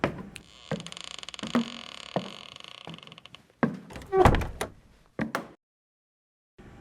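Heavy church doors open with a long creak, followed by thumps and footsteps as someone enters, then a final door thud before a quiet pause; no one speaks.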